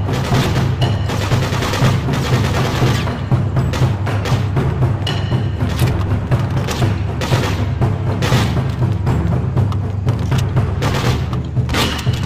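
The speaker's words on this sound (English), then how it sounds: "Shotgun." Shotgun fire and other weapons crack through a dense wartime battle in the video game Freedom Fighters, with loud repeated blasts over a constant low rumble of combat.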